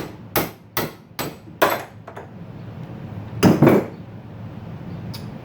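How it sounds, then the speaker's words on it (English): A hammer strikes a spindle clamped in a vise to drive out a locked bearing: four sharp metallic whacks in quick rhythm, a pause, then a heavier double blow and a faint final tap, close and loud. "Give it a couple good whacks."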